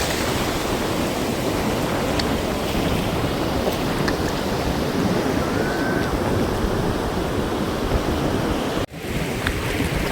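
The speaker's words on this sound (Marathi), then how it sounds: "बघा किती लाटा येत आहेत।" Ocean waves breaking on a beach, heard as a loud, continuous roaring wash of surf that fills the whole clip with no clear gaps, with a brief dip near the end.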